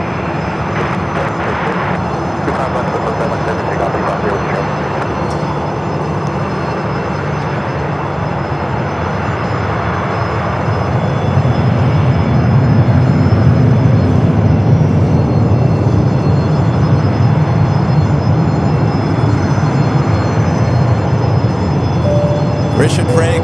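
A jet airliner takes off from runway 25 right at Phoenix Sky Harbor, its steady broad roar swelling louder about halfway through and holding strong, with faint talk underneath.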